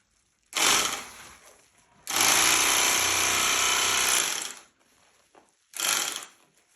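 A 220V bag-closing sewing machine stitching a sack runs in three bursts: a short whir, then a steady loud two-second mechanical buzz, then a brief final burst, close up with quiet gaps between.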